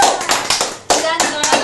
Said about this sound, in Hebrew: טוב, כפיים!